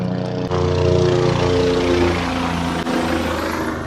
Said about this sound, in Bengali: মাথার ওপর দিয়ে বারবার হেলিকপ্টার যাচ্ছে, আর এত শব্দ